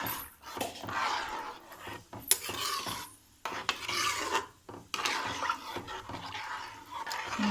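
A spoon scrapes and rasps steadily against the bottom of a pot of tomato rice, stirring in repeated strokes with brief pauses, close by and with no talking.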